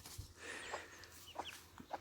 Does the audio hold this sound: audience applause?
no